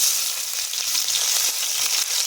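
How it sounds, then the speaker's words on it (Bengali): Chopped onion frying in oil with dried chilli, bay leaf and cumin gives a loud, steady, close sizzle with faint stirring scrapes throughout, and no voices. "এবার একটু লাল লাল করে ভেজে নেব"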